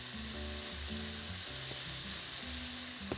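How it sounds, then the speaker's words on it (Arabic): Rice stir-fried in a pan with other ingredients for beef shawarma, a continuous close sizzle and hiss with light stirring scrapes, no voices. "هننزل الرز هنا، عايزة ياخد تشويحة واحدة مع كل المكونات دي"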